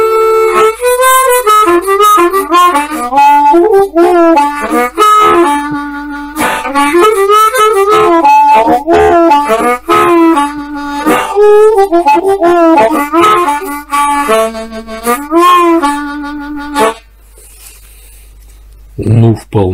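A Golden Cup Chinese harmonica in a low key plays a continuous melody of bending, sustained reedy notes close up and loud, ending abruptly in near silence with a faint breath at the close.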